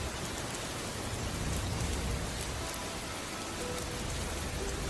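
Steady, heavy rain falls on surfaces at night, a dense, even hiss of drops that continues without pause at a constant, moderate level.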